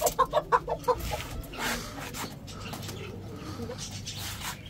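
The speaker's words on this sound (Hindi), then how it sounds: "इस मुर्गे के साथ ना एक मुर्गी और लेके आएंगे और एक हमारी ब्लैकी आ जाएगी" A pet rooster clucks in a quick series of five sharp pulses up close, then falls quiet against a soft background murmur.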